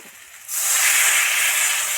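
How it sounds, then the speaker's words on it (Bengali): Water poured into a hot pan of spiced Bengali bata fish curry with potato, brinjal and lentil dumplings, bursting into a loud, steady hiss that starts abruptly and holds without pause, close up. "এবার জল দিয়ে দেবো"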